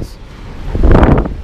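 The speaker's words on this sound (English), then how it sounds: "It is a little bit windy, so bear with me." A short gust of wind buffets the microphone, swelling into a low rumbling roar in the second half.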